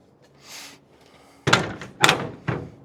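Heavy steel cab door on an old 1967 Chevy C50 truck slamming shut, three loud close thunks in quick succession, about half a second apart, with faint clatter before.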